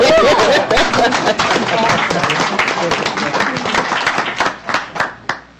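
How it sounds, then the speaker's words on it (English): Audience applause at a school district board meeting, a steady roomful of clapping that gradually thins into a few scattered claps, with chatter and light laughter mixed in. "That deserves another round of applause"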